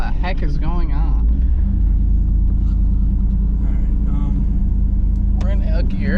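A 1992 Chevrolet Camaro B4C 1LE engine rumbles low and steady as it accelerates in low gear, heard from inside the car, stumbling on throttle tip-in while people talk over it.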